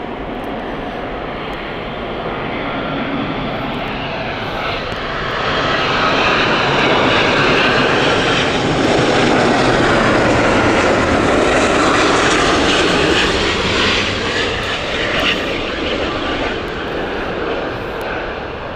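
A jet airliner at Heathrow Airport roars loud and close, its engine noise swelling in the middle as it passes and then easing slightly, a broad steady rumble with no voices.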